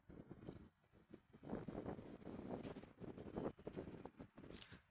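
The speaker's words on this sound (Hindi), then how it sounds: "ये बहुत ज़्यादा यहाँ पे हवा चल रहा है, इसी कारण खिड़की खुला हुआ है और हवा आ रहा है" Wind blowing in through an open window in a room, a gusty, rushing roar that rises and falls in uneven surges, fairly faint, with no speech over it.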